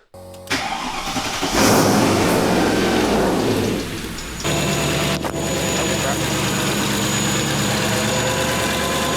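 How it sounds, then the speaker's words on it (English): A Ford Capri's V8 engine cranks and fires up, revs briefly, then settles into a steady idle with a ticking, puffing exhaust leak; a voice speaks over it. "let's have a look at this exhaust leak first"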